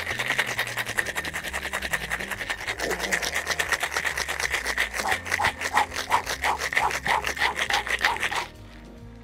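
Ice rattles hard inside a metal cocktail shaker as a French Martini is shaken, a fast steady rhythm of sharp clacks running close and loud for about eight seconds before stopping abruptly.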